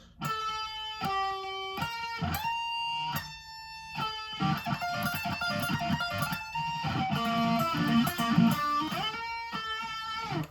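Guitar solo from a song, played on guitar as a lesson demonstration: quick bright picked notes and bends, some held over a chugging lower part, all without talk.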